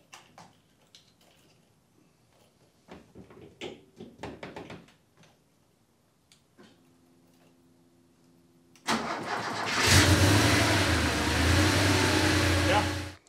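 A hotrod Porsche 912 engine cranks over and catches, then revs loud and steady close by. Quiet clicks and handling sounds come before the start, and a brief starter whine is audible.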